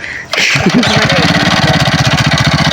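A motorcycle is kick-started; after a brief quiet moment the engine catches and settles into a loud, close, rhythmically pulsing idle that continues to the end.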